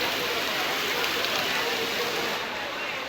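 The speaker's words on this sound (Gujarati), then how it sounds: "વરસાદ આવી ગયો, વરસાદ ચાલુ થઈ ગયો।" Steady rain falls in Rapar, Gujarat, a dense continuous hiss of drops hitting surfaces, loud and even from start to finish.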